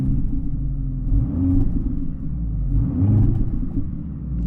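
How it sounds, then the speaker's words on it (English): A 2-litre four-cylinder engine in a Mercedes C63 AMG on the road gives a steady low rumble that swells twice under light throttle, close and fairly loud, with soft burbling texture. "for a 2-litre engine it sounds pretty good. They've added all the little burbles and everything."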